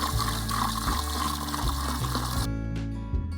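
Thermomix TM6 mixing eggs, water and a little salt at speed 4 for six seconds, a churning motor hum with liquid sloshing that cuts off sharply near the end, close and fairly quiet.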